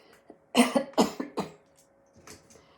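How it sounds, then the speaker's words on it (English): A short burst of several harsh coughs from one person, close by, followed by a couple of softer trailing coughs. "I still have a little bit of a cough"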